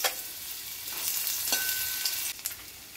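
Ginger fries in a little hot oil in a kadai, a loud close sizzle with stirring scrapes and a brief clink near the end, no voices.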